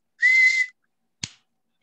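A football coach blows one clear, steady whistle blast lasting about half a second, loud and close, and a short sharp click follows a moment later.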